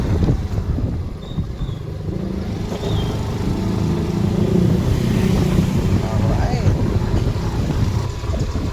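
A Suzuki Access 125 scooter engine runs at a close, steady low hum that swells slightly toward the end, with a person talking over it throughout.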